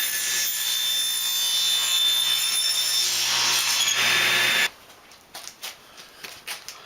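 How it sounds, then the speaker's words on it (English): A power saw cuts steadily through wooden side pieces for a kitchen wrap rack, a loud continuous whine for about four and a half seconds before stopping, followed by a few light knocks and handling sounds. "I'm going to set this to about 16 inches and cut these two side pieces."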